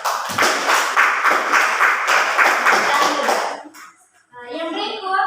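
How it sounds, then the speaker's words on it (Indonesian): A classroom of students claps together for a student group, a rhythmic burst of fairly loud, close hand clapping lasting several seconds before fading, followed by a voice speaking. "Mari kita berikan tepuk tangan untuk kelompok 2."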